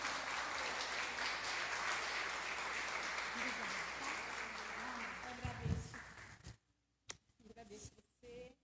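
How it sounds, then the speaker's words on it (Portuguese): Church congregation clapping for the Lord at a women's gathering, a dense steady wash of applause that fades out near the end, followed by brief louder bursts and a moment of near silence. "E as palmas ao Senhor,"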